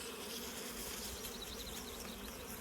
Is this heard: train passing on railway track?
no